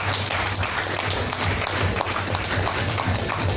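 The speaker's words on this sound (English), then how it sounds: "Round of applause." Applause from an audience at an esports press conference rolls on as a continuous, crowded patter of clapping throughout, with a low hum and background murmur underneath.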